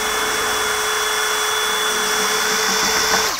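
A cordless SDS drill whines steadily at close range, drilling through plasterboard around a window into something very hard, a continuous high-pitched grinding that holds for several seconds before cutting off abruptly.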